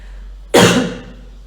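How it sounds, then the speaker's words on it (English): A woman gives a single sharp, close cough that bursts out suddenly and then trails off quickly, with no talking around it. "I don't have COVID, so don't worry about the cough."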